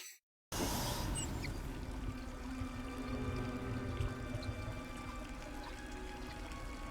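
Water pouring into a bathtub, a continuous rushing splash that starts abruptly after a brief silence and stays steady and moderately loud.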